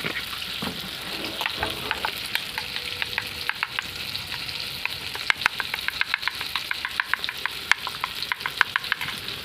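Spice paste of ground whole spices, sour curd and mustard oil sizzles in a hot pan while a utensil scrapes and stirs it in quick, irregular clicks, close and steady throughout.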